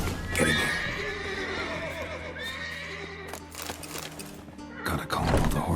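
Horses in a stable in The Witcher 3 whinnying and snorting, several loud neighs rising and falling close by, mixed with hoof clip-clops and shuffling, with no talking over them.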